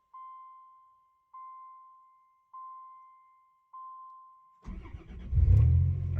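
Four short beeps lead into a 1990 Dodge Grand Caravan LE engine cranking and firing right up, then settling into a rough, loud idle close to the microphone.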